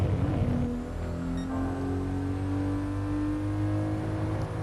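The straight-six engine of a 1997 Toyota Supra RZ in GT Sport drones steadily at high revs, then a downshift makes its pitch jump up and hold a sustained, close, even tone.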